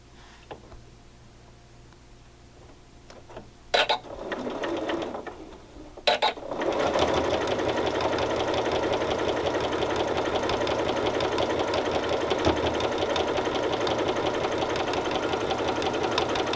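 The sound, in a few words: sewing machine stitching quilt strips together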